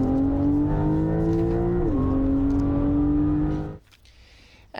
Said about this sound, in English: Porsche launched its latest 911 Turbo S sports car.